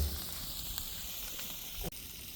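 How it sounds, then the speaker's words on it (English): Bacon sizzles in a pan during a homestead campfire breakfast, a steady crackling hiss at moderate level with a brief metallic knock near the end and no talking. "Let's get our bacon back in the pan here, and we'll just carry it over to the countertop and get our eggs frying here."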